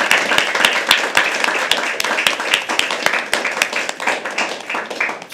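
An audience at a live poetry open mic at The Habitat claps in a steady, rhythmic beat of sharp hand claps, loud and close, with a murmur of voices underneath throughout.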